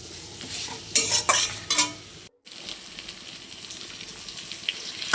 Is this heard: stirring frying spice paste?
yes